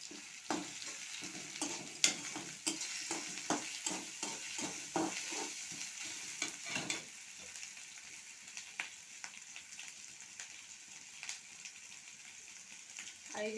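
Chopped ginger and green chillies fry in a pan while a spatula stirs them, giving a steady sizzle broken by repeated clinks and scrapes, busier at first and easing off later.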